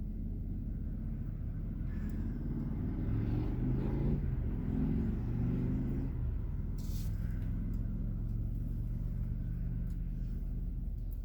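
Road traffic in Destin, Florida: a steady low rumble of passing cars and engines carrying through the whole stretch, with a vehicle accelerating midway, fairly close and continuous, no talking.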